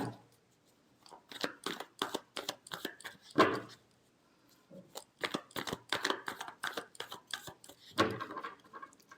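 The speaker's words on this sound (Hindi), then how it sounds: "Last shuffle." Tarot cards are shuffled by hand in rapid riffling and slapping bursts, close and fairly loud, separated by short pauses.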